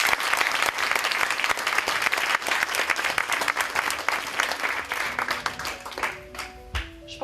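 A large audience applauds steadily at a feminist event in Quebec, dense clapping sustained for several seconds before thinning out, with a faint tone appearing near the end.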